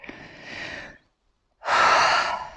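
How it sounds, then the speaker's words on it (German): A slow breath demonstrating relaxation: a soft breath in, a short silent pause, then a long, loud, steady exhale lasting about a second, close to the microphone with no talking. "dann atme lange aus"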